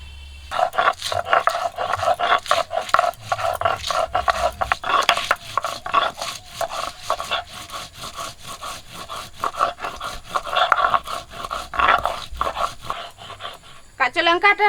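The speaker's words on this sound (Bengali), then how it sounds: "পাঁচ ছটা কাঁচা লঙ্কা বেটে নেবো" Five or six green chillies are ground into paste by hand, a fast rhythmic scraping and rubbing that runs steadily and close for the whole stretch.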